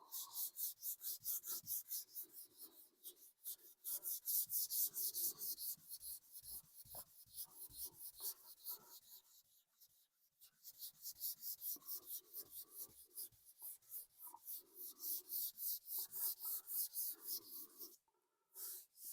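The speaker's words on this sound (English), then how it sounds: "I'm actually just sanding clear at this stage because I did put clear coat, a thin coat over the gold." Rhythmic sanding strokes rasp back and forth across clear coat on a 1966 Ford Mustang body, steady repeated passes with short pauses, close and fairly quiet.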